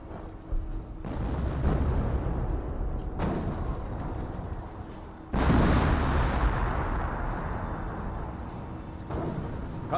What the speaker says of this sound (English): And also got an M2 howitzer now raining on in.